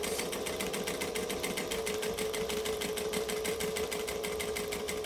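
A sewing machine stitches through vinyl in a steady, rapid mechanical chatter, close and continuous with an even rhythm throughout, no voices.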